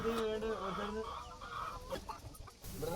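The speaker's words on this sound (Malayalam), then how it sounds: "ഇപ്പോൾ ഏതാണ്ട് കൂടിൻ്റെ ഇരുവശത്തായിട്ടും പതിനെട്ട് കോഴികളുണ്ട്" Hens in a coop of about eighteen birds cluck and call close by in repeated rising and falling notes, a steady busy chorus with faint background noise.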